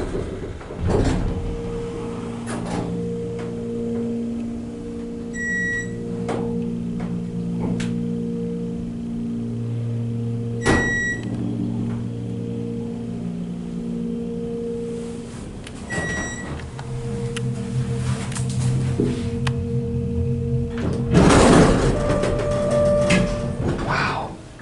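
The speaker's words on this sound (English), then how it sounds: "now listen to the motor going up to 3 on this elevator." Otis Series 1 hydraulic elevator at an outpatient center, its motor humming steadily as the cab rises, with tonal whine, occasional clunks and door or cab rattles, ending in louder mechanical noise near the stop.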